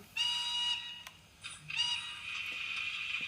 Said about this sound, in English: Try the whistle, which is number 2.